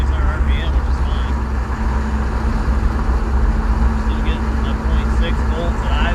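A 1992 Chevy truck with a 6.5 Detroit Diesel and 4L80E transmission drives at highway speed, giving a steady, loud drone and low rumble that runs unbroken throughout.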